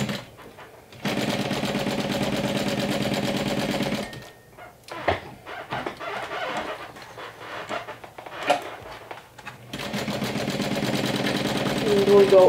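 A home sewing machine runs steady bursts while stitching the seam of a Haunted Mansion–inspired crossbody bag, with a fast even whir that stops mid-clip for quieter handling noises before resuming.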